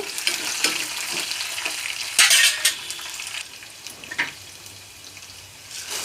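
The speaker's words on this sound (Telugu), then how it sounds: "ఇప్పుడు శనగపప్పు వేస్తున్నాను శనగపప్పు కూడా వేగాలి" Chana dal and slit green chilies frying in hot oil for an ivy gourd chutney, a steady close sizzle with brief louder crackling bursts as the lentils go in and are stirred, no talking.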